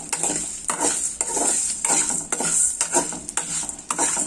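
Pav bhaji masala spices and two bay leaves roast in a pan, stirred with a spatula. Rhythmic scraping strokes ride over a bright, steady sizzle, loud and near, with no voices.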